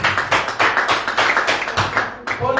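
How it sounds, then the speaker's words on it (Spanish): Church congregation claps together in a fairly close, steady burst of rhythmic applause lasting a few seconds, with no speech over it. "¿Cuánto le da un aplauso al Señor?"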